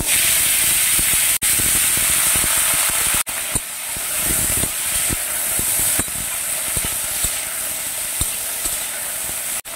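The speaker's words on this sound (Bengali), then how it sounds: "ওই তেলের মধ্যে দিয়ে দেব" Drumstick stalks dropped into hot oil after frying potatoes, giving a loud, steady bright sizzle and hiss for several seconds, with a few brief breaks and light stirring clicks.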